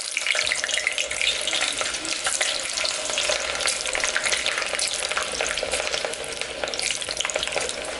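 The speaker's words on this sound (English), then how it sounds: "You're going to take your fries and drop them in there." Homemade french fries dropped into hot oil, bubbling and sizzling loudly and steadily at close range, with no voices.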